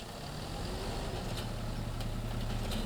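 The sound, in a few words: Massey Ferguson tractor engine idling, from Farming Simulator video game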